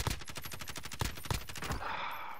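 Rapid automatic fire from an ACR rifle in Warzone on Rebirth Island: a fast, steady burst of close, punchy shots for about two seconds, ending in a rattling tail, with no talking.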